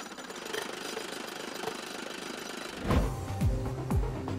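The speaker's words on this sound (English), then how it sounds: "Then it's up to a machine called the rotary swedger to reshape each tube into a precisely molded and balanced bat." Rotary swedger hammering an aluminum bat tube over a mandrel between twin dies, a loud continuous mechanical chatter followed by heavier rhythmic thuds as the tube is reshaped.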